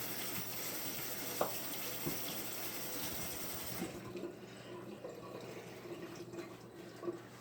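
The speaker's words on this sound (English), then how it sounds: "I'm just going to rinse my hands off here." Hands rinsed under a running kitchen tap during low-carb cooking prep, a steady close stream of water splashing into the sink that cuts off partway, leaving quieter drips and handling noise.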